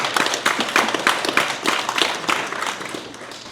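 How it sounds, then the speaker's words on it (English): A small audience at a community wellness gathering claps in a short round of applause, close and fairly sparse, with individual claps audible and fading slightly toward the end. "So give yourself a round of applause."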